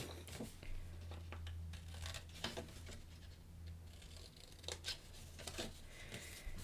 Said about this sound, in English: then I'm going to cut in here and do a little angle cut to give it some room